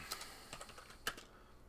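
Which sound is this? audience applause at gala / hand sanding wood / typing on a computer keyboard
typing on a computer keyboard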